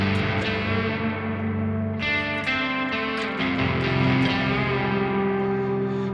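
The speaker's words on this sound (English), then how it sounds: "I'm using it as kind of like a distortion pedal right now" A distorted electric guitar played through an overdrive distortion pedal plays sustained, gritty chords with a thick overdriven tone, loud and continuous, with a few sharper strums along the way.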